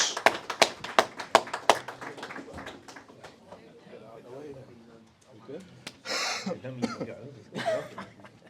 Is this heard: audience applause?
yes